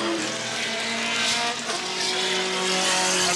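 A 1981 sports sedan race car roars past at the finish of a round at Wanneroo Park, its loud sustained engine note holding steady with a harmonic whine throughout.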